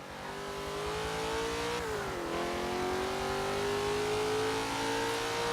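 A car engine in the Forza 7 racing game revs steadily, dips briefly as it drops into first gear, then climbs again in a loud, continuous whine with no talk.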